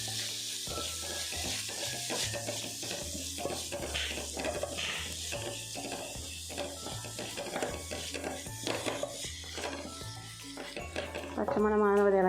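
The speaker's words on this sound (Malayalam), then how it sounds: "പച്ചമണം മാറുന്ന വരെ ഇളക്കിയിടാം." Garam masala powder stirred in a frying pan with a utensil, steady scraping and soft sizzle through the clip, with strong sustained music or tonal sound underneath and a brief rising tone near the end.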